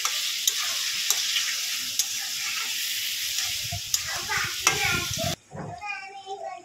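Sliced ridge gourd sautéing with turmeric and salt in a pan, a bright sizzle with spoon scrapes and stirring clatter, faint voices in the background, cutting off abruptly near the end.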